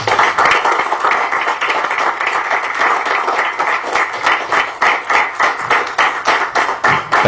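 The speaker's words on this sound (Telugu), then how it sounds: "So another big round of applause మన కోసం." An audience applauds at a job seminar in a hall, a steady round of clapping lasting several seconds, loud and close, with no talk over it; individual claps grow more distinct toward the end.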